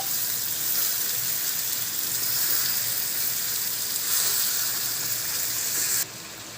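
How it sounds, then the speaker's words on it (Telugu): Chicken pieces sizzling in a pan while being stirred for a curry, a steady close frying hiss that drops slightly in level near the end, with no talking. "నేను దీంట్లో చికెన్ వేసేసుకున్నాను దీన్ని దీన్ని కొంచెం కలుపుకోవాలి"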